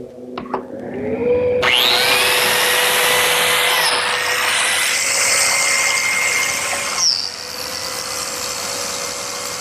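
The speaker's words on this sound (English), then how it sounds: "cut a series of biscuit slots in the edge of the frame about every 8 inches" A biscuit joiner whines up to speed and cuts a slot in the edge of a redwood frame, a loud, close, steady high motor scream with cutting grind for about five seconds, then spinning down after a few light clicks at the start.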